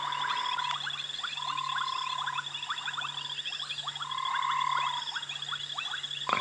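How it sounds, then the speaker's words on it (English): Dusk chorus of frogs including bubbling cassinas, banded robber frogs and African bullfrogs at a rain-soaked African safari site: repeated bubbling trills, rhythmic clicks and a low steady drone, moderately distant with no talking. "But you can hear the frogs around us. Bubbling cassinas, banded robber frogs, African bullfrogs,"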